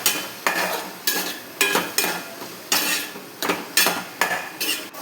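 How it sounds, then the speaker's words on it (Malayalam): Mixed vegetables tossed with salt and turmeric in a pan, heard as about nine rhythmic spoon scrapes and stirs, close and fairly loud over a light sizzle, with no voices. "ഇത് രണ്ടും കൂടി ചേർത്തിട്ട് വീണ്ടും നന്നായിട്ടൊന്ന് മിക്സ് ചെയ്ത് കൊടുക്കണം"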